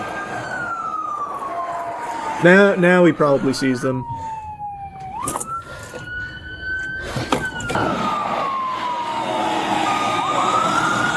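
A police or emergency siren wails continuously through the scene, rising and falling over background noise, with someone talking over it and a brief burst of other sound partway through.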